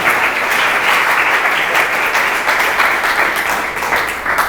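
Applause from a church congregation during a sermon, dense and loud continuous clapping that holds steady for several seconds.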